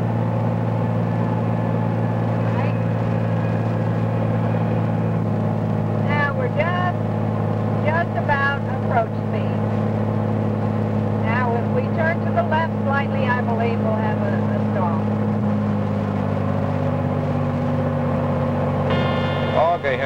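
A light airplane's engine drones steadily at power during a landing and go-around, a constant close rumble throughout with someone speaking over it in short calls.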